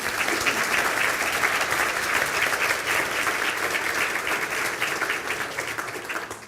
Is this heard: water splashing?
no